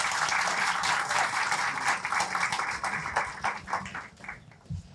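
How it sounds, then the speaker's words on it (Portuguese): Applause from an audience at a talk event, a sustained round of many hands clapping that gradually thins and fades toward the end. "Uma salva de palmas"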